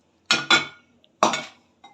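Metal utensils clinking while semolina panjiri is dished out, three close, sharp clinks in quick succession with a faint tap between them, against quiet.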